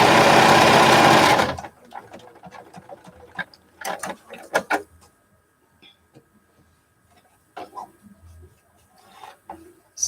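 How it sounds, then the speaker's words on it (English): A sewing machine stitches quilt pieces made from 2-inch squares in a loud, fast, steady whir lasting about a second and a half. Quiet fabric handling and small clicks follow. "And then sew a piece of the cape onto that."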